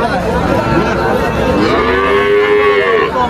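A Sahiwal calf at a rural cattle market moos once, a clear drawn-out call close to the microphone over a steady murmur of market background noise.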